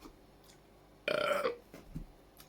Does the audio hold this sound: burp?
yes